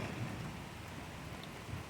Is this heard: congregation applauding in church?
no